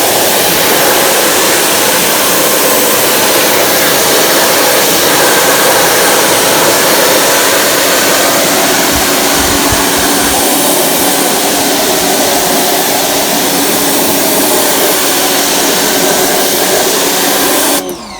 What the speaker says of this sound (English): Look what happens when I hit this with the pressure washer.